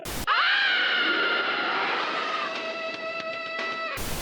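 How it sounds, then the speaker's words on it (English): Opening of the Baywatch Nights theme song: a single long, shrill, wavering scream, sustained loudly for several seconds and tapering with a few clicks before cutting off. "I have to stop myself from doing the insane scream that begins the theme song"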